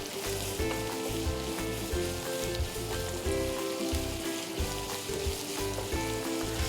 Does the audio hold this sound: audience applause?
no